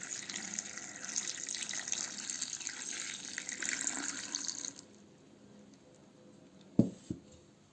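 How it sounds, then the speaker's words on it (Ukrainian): Cold spring water is poured into jars of salted tomatoes with mustard and garlic for fermenting, a steady close splashing stream for about five seconds that stops, followed by two sharp knocks. "далі заливаємо звичайною холодною джерельною водичкою"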